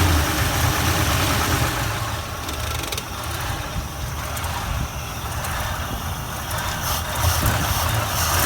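A 1967 Chevrolet C20 pickup truck needing a tune-up idles close by, a steady low engine rumble with rough mechanical rattling throughout and no voices over it.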